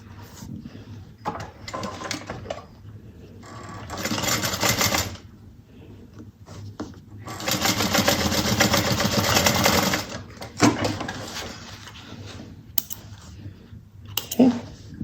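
A sewing machine topstitches a bucket bag in bursts of rapid, rattling stitching, short runs early and a long steady run in the middle, separated by quieter handling pauses.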